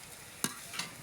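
Cabbage frying in a wok, with two short, fairly quiet stirring scrapes over a faint, steady sizzle.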